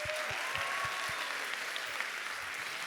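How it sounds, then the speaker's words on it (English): An audience at a Miss Virginia Volunteer pageant claps for the live band, a steady wash of applause with a few louder thumps near the start. "Let's give them another round of applause."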